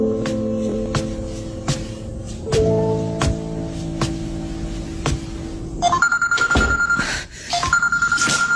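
A telephone rings on and on without being answered, a repeating electronic ringtone pattern that shifts partway through into a higher, brighter tone, fairly close with no voices.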